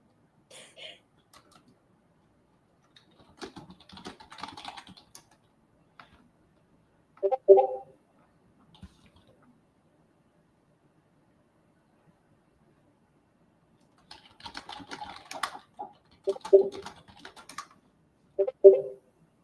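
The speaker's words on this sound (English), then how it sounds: "He's just annoyed that I'm typing so much." Keyboard typing in scattered bursts of quick, light clicks, close and fairly quiet, with long silent gaps between them.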